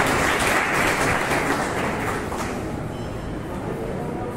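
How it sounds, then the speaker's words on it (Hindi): Loud, sustained applause from a crowd of Bharatiya Janata Party members welcoming honoured guests at an event, a dense steady clatter of clapping that fades slightly toward the end. "सभी भारतीय जनता पार्टी के लोग जोरदार तालियों से उनका स्वागत करें।"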